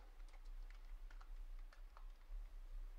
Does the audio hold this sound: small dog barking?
no